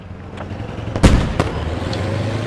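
A K21 armored vehicle fires in the military game Squad, a single loud heavy blast followed by a second sharper report and a few distant pops over a low rumbling background.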